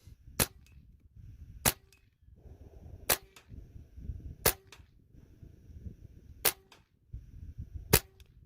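A Benjamin Maximus .177 air rifle fires Griffin 18-grain dish base hollow point slugs at 40 yards, six sharp loud cracks spaced one to two seconds apart over low background rumble.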